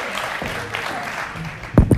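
An audience at a live talk show claps in steady, continuous applause. A few louder, closer bursts come near the end.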